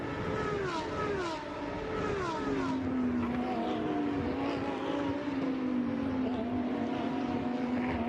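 Lamborghini Super Trofeo race cars pass on the track at Imola, their engines a loud, continuous roar with falling pitch sweeps as they go by and shift gears.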